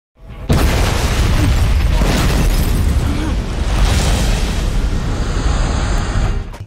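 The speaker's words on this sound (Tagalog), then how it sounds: "sa sandaling iyon ay sumabog ang SUV ni Charles na nagdulot ng gulo sa dalawang lalaki" A film scene in which an SUV explodes: a sudden loud boom erupts and then rolls on as a sustained roaring blast and rumble for several seconds.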